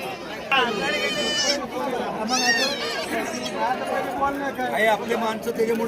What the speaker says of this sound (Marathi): आज किती शेळ्या आहेत